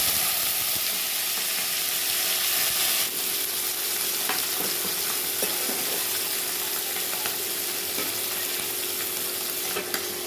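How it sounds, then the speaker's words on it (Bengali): Capsicum frying in oil with chopped ginger and green chilli in a pan for vegetarian chilli paneer makes a steady, close, loud sizzle. Occasional stirring scrapes and clicks sound throughout, with no speech. "এই দেখো ক্যাপসিকাম ভাজাতে দিয়ে দিলাম আমি একটু লবণ।"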